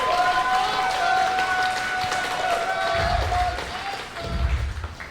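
A crowd at a live wrestling homecoming event applauds steadily, a dense wash of clapping that carries through the whole stretch, with some voices mixed in and a few low thumps near the end.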